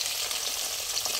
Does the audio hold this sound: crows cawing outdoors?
no